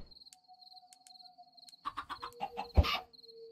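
A chicken clucking in Minecraft, a few short close bird calls and a loud squawk near the end, over a backdrop of thin high chirping insect tones.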